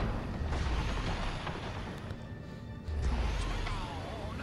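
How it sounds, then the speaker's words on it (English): Continuous rumbling explosions from the video game Destroy All Humans fill the scene, with dense crashing debris and a fresh heavy boom near the end, loud and unbroken with no talk. "Oh, these explosions. Explosions are so beautiful in this game."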